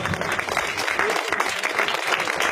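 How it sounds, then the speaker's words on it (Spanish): A church congregation claps for the Lord during a sermon, a dense, steady applause that fills the room at full level from start to finish. "A su nombre, dele palmas al Señor."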